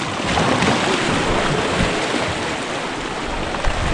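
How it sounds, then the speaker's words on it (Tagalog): Strong sea waves churn and slosh around a small fishing boat out on open water in a continuous loud rushing wash, with a faint thump near the end. "Ang lakas ng alon."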